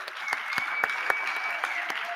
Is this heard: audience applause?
yes